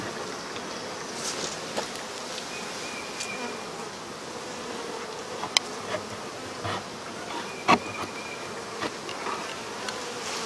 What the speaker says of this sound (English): there are bees going in and out of it